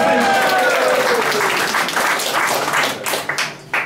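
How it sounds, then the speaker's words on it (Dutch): Applause from an audience at a book presentation in Voorschoten, a dense crowd clapping that starts loud and thins toward the end, with a voice speaking over the start. "Applaus!"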